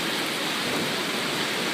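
Heavy rain pours steadily during a storm, a dense, loud, even hiss of drops hitting surfaces all around with no pauses.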